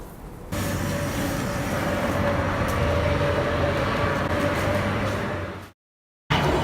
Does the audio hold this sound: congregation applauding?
no